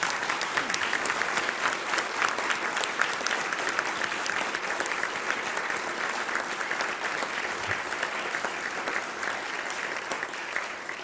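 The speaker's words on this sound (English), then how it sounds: "How about a round of applause?" Luncheon audience at the National Press Club giving a long, even round of applause, many hands clapping continuously at a moderate distance without pause.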